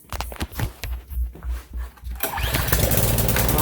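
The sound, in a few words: Mitsubishi Starion K engine starting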